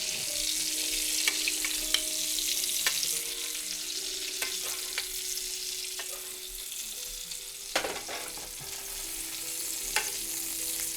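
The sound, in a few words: vegan meatballs frying in a pan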